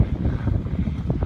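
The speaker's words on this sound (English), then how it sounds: "Now we're dealing with a headwind as well." Strong headwind buffets the microphone while cycling up the steep Nufenen Pass in the Swiss Alps, a loud continuous low roar that surges and dips throughout.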